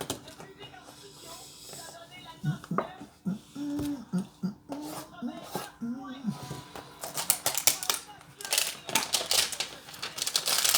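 Trading card box being opened, with crinkly plastic and cardboard rustling and tearing in irregular bursts, close and fairly loud, alongside brief vocal sounds.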